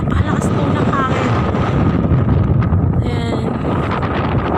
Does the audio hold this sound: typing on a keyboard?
no